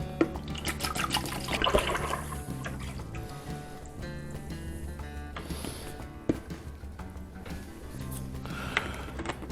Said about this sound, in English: when we're pouring this in, we just let it chug in